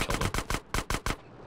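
Video game gunfire in two quick bursts of sharp automatic shots, four rapid cracks then three more after a short pause, loud and close.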